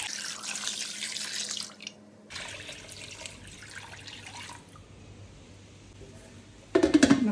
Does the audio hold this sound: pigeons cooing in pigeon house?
no